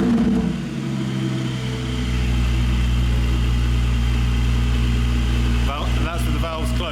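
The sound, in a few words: Porsche Spyder engine through new exhaust, valves closed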